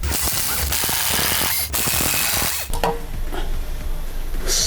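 A ratchet wrench clicks rapidly and loudly up close while disassembling a loose wheel hub bearing on a Hyundai Grandeur Hybrid, in bursts with short pauses, over a steady mechanical whir.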